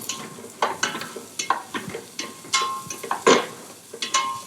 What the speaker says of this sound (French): Donc ces légumes en cuisson